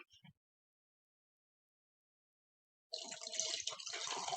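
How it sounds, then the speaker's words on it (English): Vinegar is poured over an egg, a short splashing trickle that begins after a few seconds of silence and continues to the end, close and fairly quiet. "now I'm going to pour the vinegar in"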